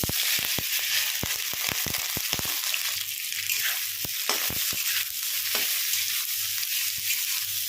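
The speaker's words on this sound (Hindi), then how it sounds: "तेल भी हमारा गर्म हो चुका है, उसमें हम आलू को फ्राई कर लेंगे।" Loud, steady sizzling of potatoes frying in hot oil, with sharp crackles and pops scattered throughout.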